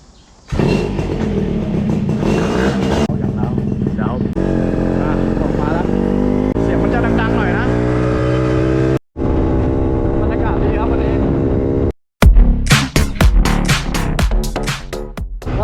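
A motorcycle ridden on a road toward Bang Saen, Thailand: a loud, close engine drone whose pitch rises and falls, with two brief drop-outs and choppier bursts near the end.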